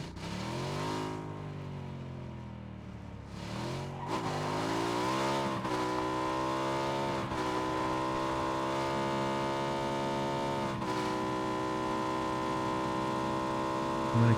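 Motorcycle engine in PUBG holding a steady drone, with a pitch sweep as it revs and settles into a sustained cruise, loud and continuous with no talk over it.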